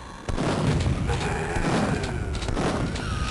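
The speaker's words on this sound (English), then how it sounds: "Shotgun battle!" Shotgun blasts in Duke Nukem 3D, a dense run of booming game gunfire packed closely together at steady loudness, with a voice talking over it.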